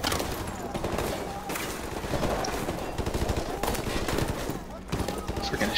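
Sustained automatic gunfire and bursts of shots in Call of Duty: Modern Warfare Remastered, dense and loud through the whole stretch, with voices calling out amid the firefight.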